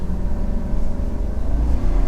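2022 Chevrolet Silverado 1500 LT Trail Boss Z71 pickup with the 6.2 engine and 10-speed transmission accelerating, a steady low engine drone with road rumble heard from inside the cab, building slightly louder toward the end, no talking.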